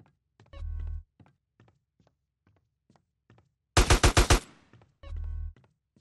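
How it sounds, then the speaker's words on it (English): Burst of about five rapid gunshots in GTA San Andreas, loud and close, with a heavier single thump before and after and faint game sounds between. "I shoot you in your face."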